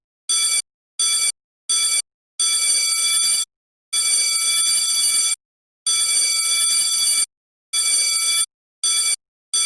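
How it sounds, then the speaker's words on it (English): A school lockdown bell rings in loud, sharp bursts, short rings mixed with longer ones and separated by silent gaps, repeating in an irregular pattern. "This is the lockdown bell."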